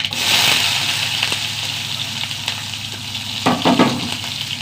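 Mustard seeds frying and popping in hot oil in a home kitchen pan, a steady close sizzle with a few sharper crackling bursts near the end and no talking.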